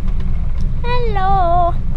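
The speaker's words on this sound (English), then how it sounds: "first test drive with the new cam" A Holden with a 308 V8 and a freshly fitted cam on its first test drive: a steady, loud low engine drone runs throughout, and a voice speaks briefly over it.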